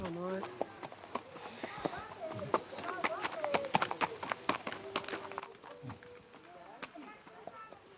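A four-year-old thoroughbred mare's hooves clip-clopping at the Palio horse race in Montagnana, Italy, a run of sharp nearby hoof knocks in uneven rhythm mixed with crowd chatter and talking.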